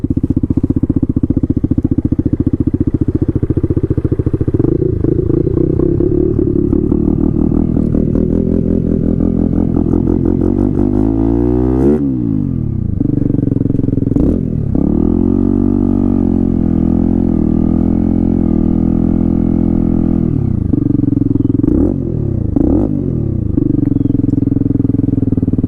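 A Honda Grom motorcycle with a swapped-in CBR engine is ridden close-up, its engine droning loudly and revving through several gear changes, with rising and falling pitch sweeps.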